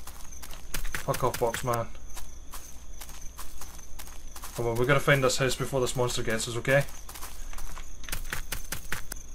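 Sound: horse with leaves walking in Knock Knock video game

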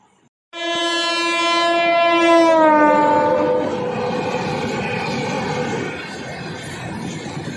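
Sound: Sarnath Express train passing with horn

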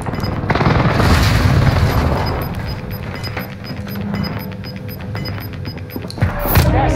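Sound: precision airstrike explosions in Call of Duty Warzone video game

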